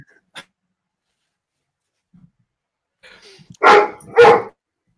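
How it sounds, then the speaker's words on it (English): A dog gives two loud, close barks in quick succession near the end of a quiet stretch, following a faint earlier yip during an online debate. "And there goes the battle dog."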